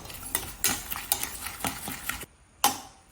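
A spoon beats three eggs with salt and boiled milk for an omelette in a bowl, making quick rhythmic scraping clinks, close and clear, about eight strokes then a pause and one final tap.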